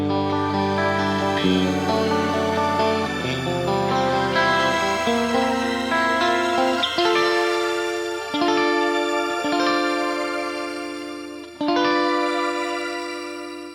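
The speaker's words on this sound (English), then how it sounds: "So this one can be my reverse delays. This one can be my forward delays." Layered reverse and forward delays from an Axe-Fx III processor wash over a sustained guitar, with chords swelling and trailing into lush, continuous repeats that stay loud throughout and have no talk.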